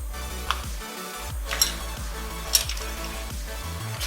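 Ketchup gets stirred into pasta sauce sizzling in a pan, with a soft frying hiss broken by several clinks of a spoon against the pan at an uneven pace.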